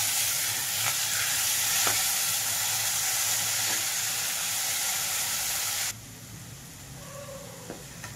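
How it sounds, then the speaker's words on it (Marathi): Raw ground masala paste sautéing in oil in a pan for a fresh dried-fish (bombil) curry, a steady close sizzle and hiss with a few stirring scrapes, dropping quieter after about six seconds. "छान तेल सुटेपर्यंत आपण वाटण परतून घेणार आहोत।"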